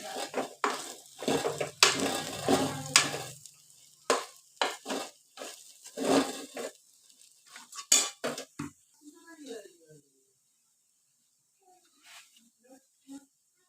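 Green banana fry with turmeric is stirred in a pan with a metal spoon, giving a string of scraping clinks and scrapes over a light sizzle, thinning to a few faint taps near the end.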